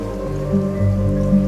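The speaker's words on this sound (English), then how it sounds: "Taking a stroll in the middle of a downpour certainly rouses the spirit" Steady rain downpour in Genshin Impact, a continuous close wash of falling water that holds an even level throughout, with soft tonal ambience underneath and no voices.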